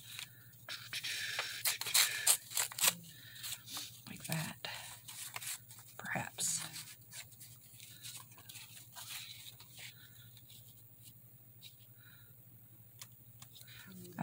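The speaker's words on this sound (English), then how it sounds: "I'm going to cut that down a little bit more." Scissors cut paper scraps for handmade tags. A run of soft, crisp snips comes mostly in the first few seconds, with quiet rustling and a voice talking nearby.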